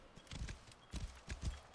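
Horse hooves clip-clop in Assassin's Creed Origins, several soft uneven thuds in a walking gait, fairly faint and close with no talking over them.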